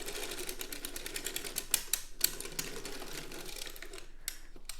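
Circular sock knitting machine cranked counterclockwise while working a heel, giving a fast, even train of close mechanical clicks and ticks that runs continuously, no one speaking.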